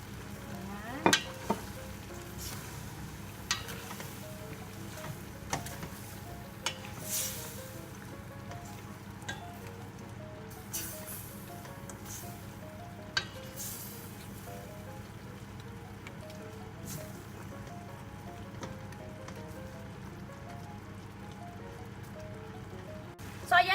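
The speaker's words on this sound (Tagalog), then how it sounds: "simmer lang po natin to for about a minute" Ginataang manok with string beans and chili simmers in a pan, giving a steady soft bubbling and sizzle with scattered faint clicks and taps, moderately close and quiet throughout.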